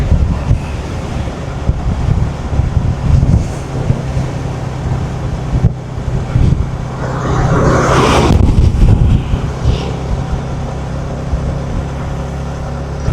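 Wind blows hard across the microphone on a road trip from Jaffna to Vavuniya, a steady loud roar with gusts that swell and fade, heard alone without talk.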